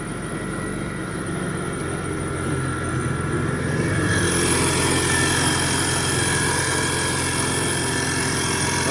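A BMW M3 E36 engine fitted with a Powerdyne supercharger runs steadily under an open hood, a close, even idle that rises slightly in intensity with a whining edge partway through.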